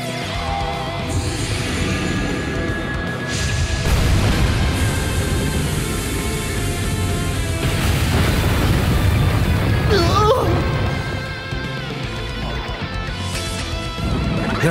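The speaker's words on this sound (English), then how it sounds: "zero cannon should do a lot of damage" A Zero Cannon fire attack bursts in the game Trails into Reverie: loud booming blasts and crackling impacts over dense battle music, with someone speaking faintly in places.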